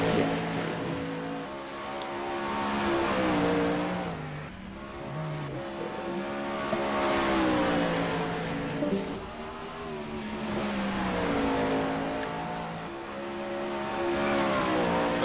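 A 410 sprint car engine in the iRacing sim howls around the track, its pitch rising and falling with each lap, loud and continuous with faint talk beneath.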